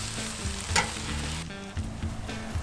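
Onions sizzle on a Blackstone griddle during seasoning, a close, steady frying hiss with light scraping and shifting sounds and no speech.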